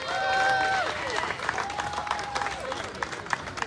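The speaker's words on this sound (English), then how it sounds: "Everybody, big round of applause." An audience at the City of Tempe's fourth annual Neighborhood Celebration awards ceremony claps in a soft, dense burst that slowly thins out, heard from a distance with a faint tonal ring over it.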